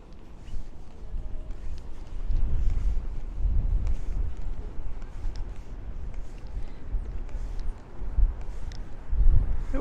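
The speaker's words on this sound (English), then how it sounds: "So it's definitely a very windy day today." Strong wind buffets the microphone on a street near Stillwell Avenue in Brooklyn, producing a rough, continuous rumble with gusts that swell and fade.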